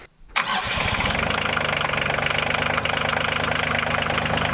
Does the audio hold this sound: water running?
no